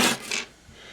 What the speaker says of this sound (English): So just sand it away until the smooth plastic completely disappears.